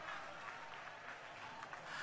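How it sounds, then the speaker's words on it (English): Applause from a crowd at an Anambra APC empowerment rally in Nnewi, a steady, fairly faint wash of clapping that carries evenly from start to finish with no break. "Put your hands together for the Most High God."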